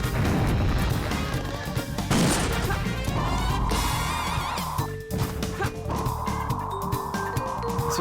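Loud rocket blasts in Sonic Adventure 2 Battle: heavy booming explosions crash in the first seconds and again near the middle, over steady game music with sustained electronic tones.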